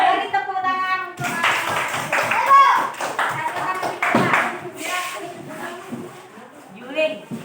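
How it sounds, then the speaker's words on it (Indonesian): Children in a primary classroom clap in a burst of scattered, overlapping applause that rises and fades unevenly, mixed with kids' voices and a teacher speaking over it. "Beri tepuk tangan untuk"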